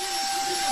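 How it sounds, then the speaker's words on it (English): A vacuum cleaner runs near a dog, giving a loud, steady high-pitched whine and roar for a fraction of a second, with a voice talking over it. "dogs usually do not like vacuum cleaners"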